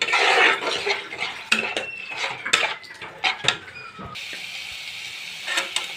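Coriander leaf chutney is stirred in a pan, the spoon scraping and clinking against the metal in irregular strokes, near and moderately loud, with no talk.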